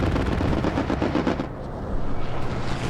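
A strafing run tears through a Hell Let Loose match on Utah Beach, a loud, dense barrage of rapid gunfire and blasts that dips briefly mid-way, then surges back with continuous rumbling fire.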